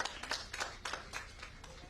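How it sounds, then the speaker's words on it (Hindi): Audience clapping at an award ceremony, a few loosely spaced claps in an uneven rhythm, fairly faint and coming from a room of people. "तालियां बजती रही"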